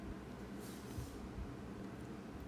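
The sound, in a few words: trains in a video game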